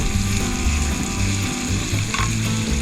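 Thick-cut bacon sizzling in a pan for dinner alongside brats, a steady crackling fry with small pops throughout, close and unbroken, with no voices.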